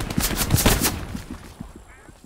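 Machine gun fire in the World War II game Hell Let Loose on the Kursk map, a rapid loud burst of shots followed by fainter, scattered shots trailing off.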